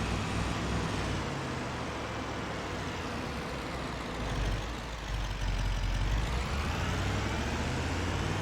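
A heavy gravel delivery truck approaches in Farming Simulator 25, its deep engine rumbling steadily and swelling slightly closer, with no other sounds over it.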